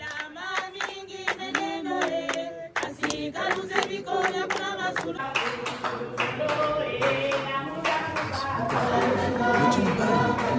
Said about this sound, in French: Ah, applaudissons.